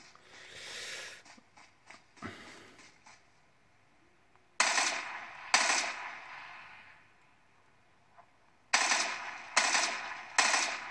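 Bursts of gunfire from a smartphone shooting game sound in loud, sharp clusters, with quieter clicks and muffled game noise between the volleys.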